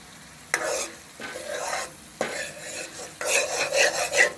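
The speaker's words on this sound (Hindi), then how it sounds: "अब इन तमाम मसालों को सब्जियों के साथ अच्छी तरह से पकाएंगे।" Spices with salt, turmeric, red chilli, crushed chilli and whole coriander cooking with vegetables for dhaba-style chana dal, sizzling in the pan with repeated bursts of stirring and scraping, close and fairly loud, no talk.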